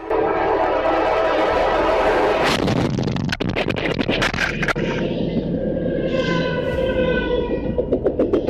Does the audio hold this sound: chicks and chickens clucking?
no